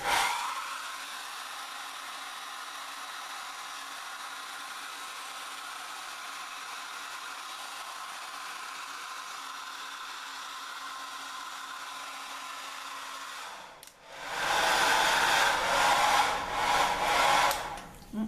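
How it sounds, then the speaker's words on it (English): A hair dryer blows with a steady, droning whir, then jumps to a louder, harsher rush of air near the end. "so that you're not blasted out by the sound of the hairdryer"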